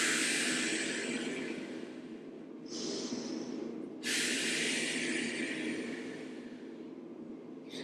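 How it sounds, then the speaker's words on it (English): Two big, deep, breathy inhales and exhales close to the mic during an abdominal workout, with no voices over them. "Take 2 big breaths."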